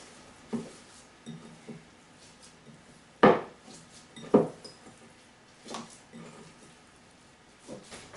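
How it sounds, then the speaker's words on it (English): Chorizo and shrimp burger mixture being mixed in a bowl, with scattered irregular knocks and scrapes of a utensil against the bowl, some louder clunks between quieter stretches. "I'm just going to mix that up real well."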